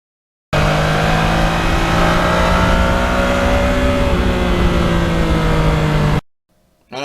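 A 2020 Yamaha MT-09 naked motorcycle accelerates hard, its exhaust tuned for low-end torque giving a steady, rising engine drone that holds loud and close for about six seconds before cutting off abruptly.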